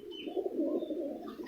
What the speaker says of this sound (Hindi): ये जी सजाद खान के कबूतर